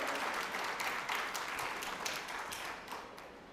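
A welcoming audience at a business club launching ceremony in Akola claps steadily, a dense even roar of hands that fades slightly toward the end, with no talk over it.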